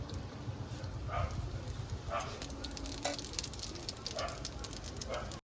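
Radhuni seeds sizzle in hot oil in a Bengali kitchen after fish has been fried for lau chingri, a steady close crackle with scattered sharper pops throughout.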